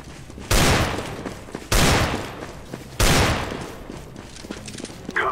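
Gunfire in the video game CS:GO: three loud, abrupt bursts of shots roughly a second apart, each followed by a decaying tail, with quieter clatter and footsteps in between.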